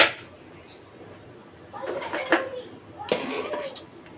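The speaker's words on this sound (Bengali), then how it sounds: "এরপর আমি ঢেকে দেব ঢাকনা দিয়ে সিদ্ধ হওয়ার জন্য" A lid goes onto a pot of masoor dal, village-style, in two short clattering bursts of metal against metal, with talk in the background.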